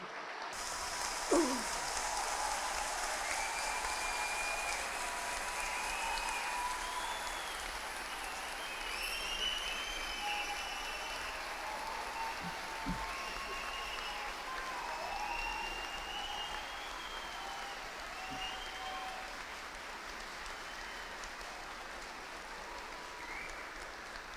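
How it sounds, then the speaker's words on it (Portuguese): Sustained applause from a large crowd at a judges' swearing-in ceremony fills the space, a steady dense patter of clapping that continues for over twenty seconds with no speech. "Uma salva de palmas a todos eles."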